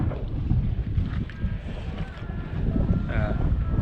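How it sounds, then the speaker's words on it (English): A breeze blows over a sailboat anchored in Elizabeth Harbour, giving a steady, fairly loud low rush of wind buffeting the microphone, with faint water and rigging sounds beneath it. "You can see there's a nice breeze blowing, so it keeps things fairly cool."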